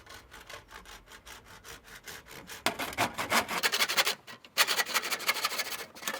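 A saw cuts steadily through a tube for a homemade musical instrument with rapid back-and-forth strokes, growing louder and harsher after a brief pause, close by.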